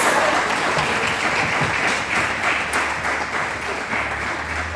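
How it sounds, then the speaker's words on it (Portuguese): A church congregation applauds in praise at the close of a worship service, a dense, steady wash of many hands clapping throughout. "as palmas que exaltam o nome do Senhor Jesus"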